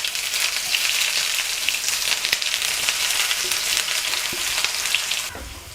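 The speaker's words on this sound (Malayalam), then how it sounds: "ഇതിലേക്ക് ചതച്ച് വെച്ച ഇഞ്ചിയും വെളുത്തുള്ളിയും കൂടെ ചേർത്ത് കൊടുക്കാം." Crushed ginger and garlic frying in hot oil with mustard seeds and dried red chillies for a Kerala-style fish curry, a loud, dense, continuous sizzle close up that drops away at the very end, no talking.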